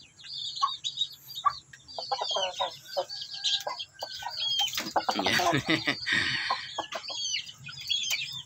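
An aggressive chicken called Red beside a native hen with eggs, clucking and squawking in short bursts over a low background hum, with other birds chirping and a voice faintly present.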